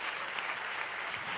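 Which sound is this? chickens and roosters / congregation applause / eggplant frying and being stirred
congregation applause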